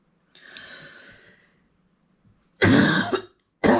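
A person with a lingering cough lets out a soft breathy exhale, then two sharp, loud coughs close to the microphone, the last one cut off at the end.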